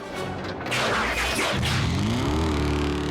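A revving motorcycle engine in a Transformers animated cartoon rises in pitch after a burst of noisy effects. The revving is loud and close, and no voices are heard.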